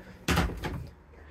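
Bathroom door in a 2022 Swift Kon-Tiki 794 motorhome opening with one sharp thunk, then a shorter knock and a fading rattle, close by.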